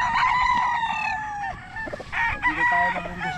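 Roosters crowing at a stag farm range, with a long cock-a-doodle-doo close by followed by more crowing and clucking from chickens around, fairly loud with faint background noise.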